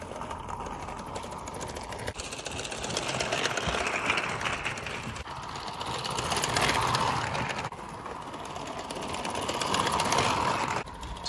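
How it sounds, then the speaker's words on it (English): A live steam Bowman 265 model locomotive runs in a garden setting, its engine giving a rapid, steady mechanical chuffing and clatter that swells and fades in waves as it passes nearer and farther, with no talking. "Depending on the level of the water in the boiler, it changes the behavior of this engine."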